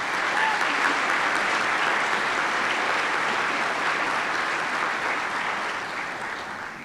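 A large commencement audience at a community college ceremony applauds steadily in a dense, sustained wash of clapping that holds for several seconds, then begins to taper slightly toward the end.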